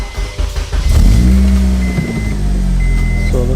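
An Acura RSX car engine cranks, catches and settles into a steady running idle, close and fairly loud, with a faint whine running through the hum.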